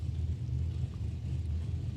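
A Mustang drag race car at Mid Michigan Motorplex idles with a deep, steady engine rumble, loud and continuous throughout.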